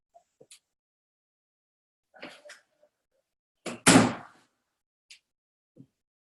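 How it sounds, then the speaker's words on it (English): An indoor door is shut during a home work session, heard as a few scattered light knocks and clicks followed by one louder, rushing thud of the door closing, then a faint final tap. "So let me shut the door."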